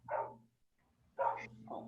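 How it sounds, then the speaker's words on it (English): A dog barks outside, two short muffled barks heard at a distance with a quiet gap between them. "the other dog is barking"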